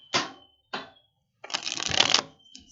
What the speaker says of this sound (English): Shuffles great. See how it shuffles.